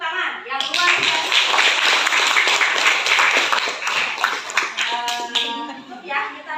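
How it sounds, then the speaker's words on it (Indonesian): Sustained applause from a room full of people at a school or community gathering, dense clapping filling several seconds before tapering off, with children's voices mixed in. "Sekali lagi tepuk tangan yang luar biasa"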